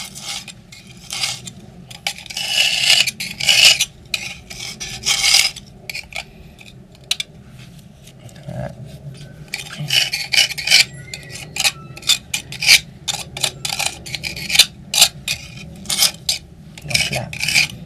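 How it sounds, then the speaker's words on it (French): A fresh utility-knife blade slicing through old, weathered polyurethane silicone sealant along outdoor terrace joints, heard as close, repeated rasping scrapes in irregular bursts with short pauses between strokes. "Alors ici, je vais donc couper le silicone polyuréthane."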